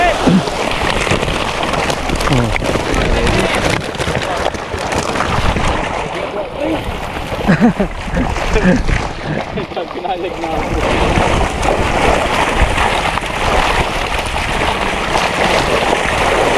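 Large fish of about ten kilos thrash hard in water at a wholesale fish landing, giving continuous loud splashing and churning that sounds like heavy rain, with voices talking faintly underneath.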